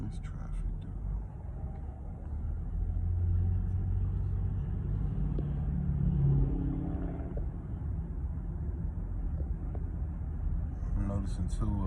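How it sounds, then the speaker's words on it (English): Road traffic heard from inside a car, a steady low engine and tyre rumble that swells slightly midway, with someone talking over it. "This traffic, dude."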